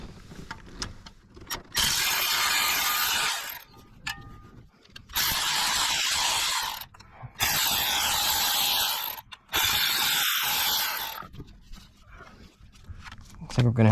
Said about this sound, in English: we're ready to remove the bolts that hold the valve cover down